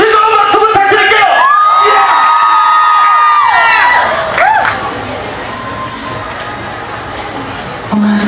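A fan meeting crowd for a singing group at Dongdaemun Migliore cheers loudly, with high-pitched screams and whoops at first, then a softer wash of crowd noise and applause.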